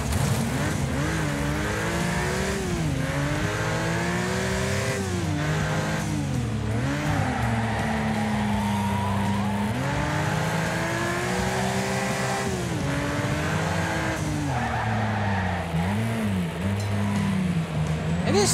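Cars race and drift in the video game Wreckfest: engines drone and rev loudly and without a break, pitch rising and falling as they accelerate, with hints of tire squeal throughout.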